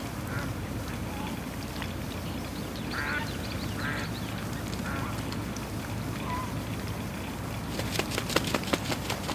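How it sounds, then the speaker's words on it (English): Geese squabbling and fighting on a farm, brief honks and quacks repeating irregularly over steady outdoor background noise, with a burst of sharper clatter near the end. "Looks like Goose is fighting with the other goose"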